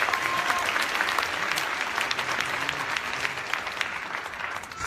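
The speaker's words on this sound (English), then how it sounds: "Give yourselves a round of applause for that right now." Graduates at a 2017 Rockford Career College commencement give themselves a round of applause, a dense, steady wash of clapping from a large crowd that holds strong for the full stretch.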